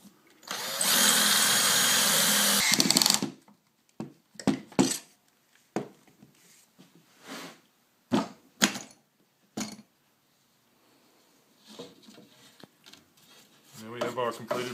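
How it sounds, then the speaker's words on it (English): A loud power drill whirs for a couple of seconds drilling holes in a wooden face frame held in a jig, then clattering and knocks of tools and wood, and a short drill burst again at the end. "Ready to drill our final holes."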